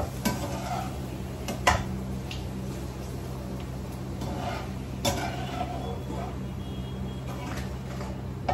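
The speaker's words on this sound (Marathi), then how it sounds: "चला मी पूर्ण पापड आधी तळून घेते" Papad frying in a pan brings a gentle sizzle with occasional utensil clinks and scrapes, fairly quiet, while a voice murmurs faintly in the background.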